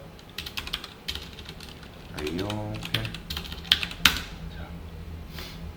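Rapid clacking of computer keyboard keys in bursts as HTML and CSS code is typed, close by, with a person speaking briefly over the typing.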